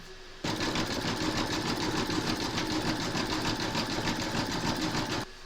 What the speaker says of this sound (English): you're going to stitch round number 8, and that's going to do the zigzagging of the raw edges around your slice of melon